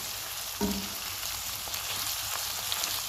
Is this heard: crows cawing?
no